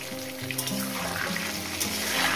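Potatoes fry in plenty of oil in a pan for aloo kosha, giving a steady, dense sizzle close up that holds throughout without a break.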